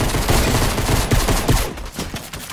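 Rapid gunfire in Fortnite as the player gets shot, a loud dense burst of shots that thins out after about two seconds.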